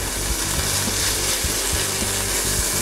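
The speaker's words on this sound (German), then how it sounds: "Und ihr seht, das Fleisch fängt jetzt langsam an zu bräunen." Chicken pieces and onions frying in a pan for honey penne make a steady, dense sizzle with soft crackling, close and continuous without talk.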